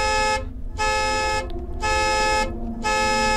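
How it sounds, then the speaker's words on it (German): Horn sounding in the video game Wick, loud and close, in three long blaring honks separated by short pauses, with no voices over it. "Kann ich die Hupe ausmachen?"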